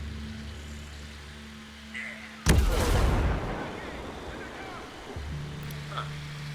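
A single loud gunshot or blast in the Ghost Recon Breakpoint video game, a sudden burst that rolls off over about a second amid a steady low ambient drone.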